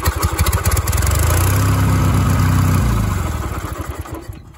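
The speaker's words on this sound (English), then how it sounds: "this engine starts off a key switch" A Wheel Horse 414-8 garden tractor engine, stock build, turns over and fires in cold weather, then settles into a loud, close, rapid chugging idle that eases slightly toward the end.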